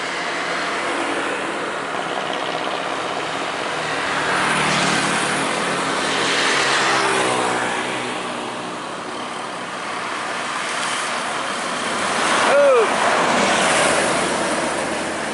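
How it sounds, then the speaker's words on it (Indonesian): A tourist bus engine idles with a deep, steady drone that swells and falls as it revs, heard close among other roadway traffic for the whole stretch. "Ekstra Salia Indah bus pariwisata."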